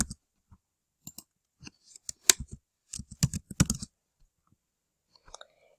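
Keys clatter on a computer keyboard while a new question stem is typed into an online survey form, quick bursts of close, crisp clicks separated by short pauses.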